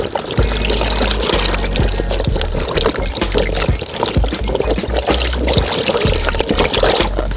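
Coconuts being rinsed under running water while preparing traditional Jamaican banana porridge, a steady close pour and trickle with irregular splashes and knocks of the nuts, continuous throughout with no talking.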